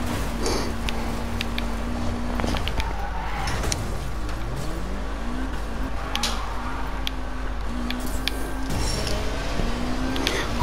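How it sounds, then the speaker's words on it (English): Lotus sports car engine in Need for Speed Payback, driving through an open world over sand, a steady loud drone with shifting revving tones and brief skidding or clicks throughout. "This car is so fast, it's like the best car in the world."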